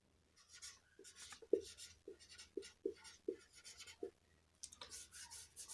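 Writing by hand while working out a divisibility rule for maths, a series of close, soft pen or marker strokes with scratchy rubbing and short taps in an uneven rhythm, fairly quiet, with no talk.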